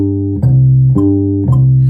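Bass guitar plays a straight, unsyncopated Latin groove, three evenly spaced plucked notes with sustained low tones between them, clear and close with no talking.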